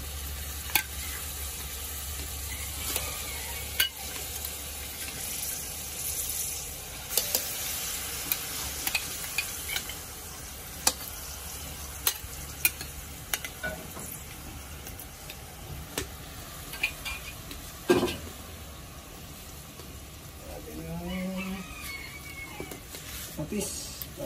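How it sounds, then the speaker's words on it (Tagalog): A salmon head fries in a pan with garlic, onion and tomato, giving a steady low sizzle under a voice, with scattered clinks and scraping stirs throughout. "Ilalagay na yung salmon."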